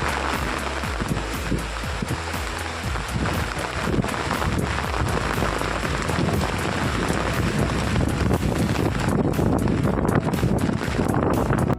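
Steady heavy rain roars throughout at the Mahalakshmi temple, a dense wash of noise with wind buffeting the microphone and no voices.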